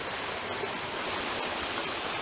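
Drinking water splashed into a well-heated frying pan outdoors gives a steady, close, rushing hiss that holds evenly throughout.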